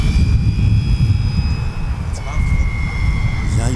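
A handbuilt ultralight RC model of a Pilatus PC6 airplane drones steadily in flight, its motor a continuous whine with a high sustained tone, holding fairly even and close the whole time.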